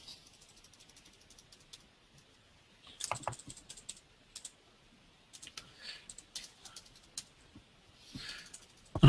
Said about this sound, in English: it's always difficult typing with people watching.